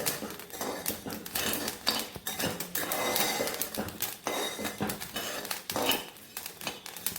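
Rapid crackling and popping of rice grains bursting while dry-roasting over high flame in a hot pan, with dense irregular snaps and occasional scraping against metal.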